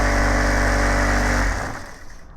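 Sewing machine running a single line of stitching on the cup of a gents' suit, a close, steady mechanical whirring hum that stops abruptly partway through, leaving a quiet tail.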